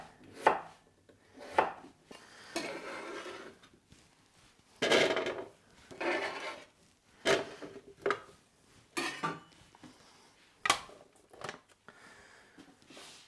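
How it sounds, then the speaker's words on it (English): A knife chops a peeled potato into chunks on a cutting board, roughly a dozen separate close thuds spaced unevenly, some sharper and louder than others, with quiet pauses between cuts. "I'll just cut that into chunks so I can boil those tonight."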